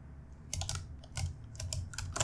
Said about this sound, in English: Let me press escape on the keyboard a couple of times.